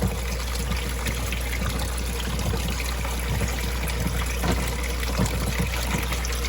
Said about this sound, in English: I run the water on it, press the air out, dump the water out